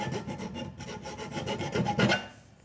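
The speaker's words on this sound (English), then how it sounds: "take the file and just lightly bevel that" A hand file rasps back and forth as it bevels a burr on a pliers jaw, with close, steady, rhythmic scraping strokes and no talk.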